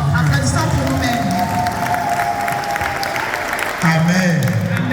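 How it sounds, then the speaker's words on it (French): Church congregation clapping for themselves, a loud continuous wash of applause and crowd noise with voices and cheering mixed in throughout. "So clap for yourself."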